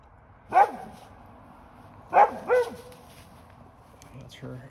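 In a garden, a dog gives three sharp barks, one alone and then a quick pair, close and loud against a quiet background, with a softer yip near the end.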